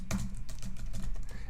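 Someone types an email address on a computer keyboard while setting up a Gmail signature, a rapid close run of light key clicks with no talking.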